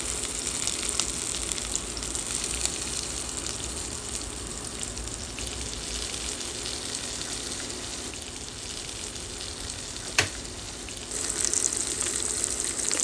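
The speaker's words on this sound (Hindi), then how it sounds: "तो ये रवा फ्राइड प्रॉन्स शैलो फ्राई कर रहे हैं हम लोग इस तरह से।" Rava-coated king prawns shallow frying in a pan, a steady broadband sizzle and crackle held at an even level throughout, with one sharp click partway and a slight rise in spitting near the end.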